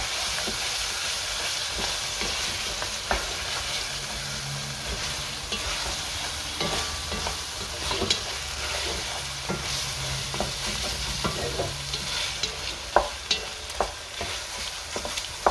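Goose stew being stirred in a pot, a spoon scraping and sloshing through the thick mixture with scattered clicks and knocks against the sides over a constant low bubbling hiss, close and fairly loud.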